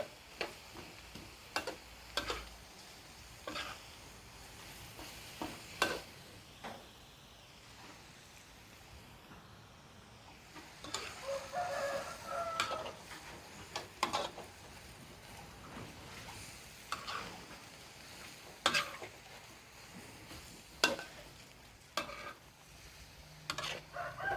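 Cabbage stir-fried with sun-dried pork in a pan, a soft continuous sizzle punctuated by irregular sharp clinks and scrapes of a utensil against the metal, close and fairly quiet.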